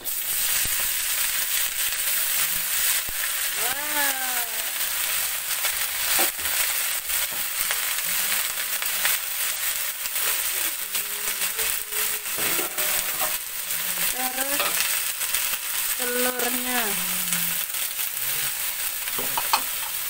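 Cap cay vegetables with napa cabbage and dried shrimp being stir-fried in a wok, a continuous loud sizzle with repeated scraping and clanking of the spatula, plus faint squeaky tones drifting in the background.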